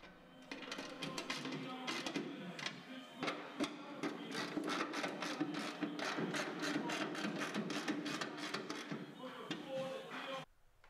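Socket wrench with a 10 mm socket snapping truck bolts back into place during reassembly: a fast, steady run of ratcheting clicks lasting about ten seconds, close and fairly loud, with no speech.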